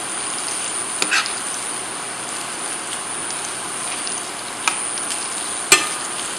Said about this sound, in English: I hear the sizzles.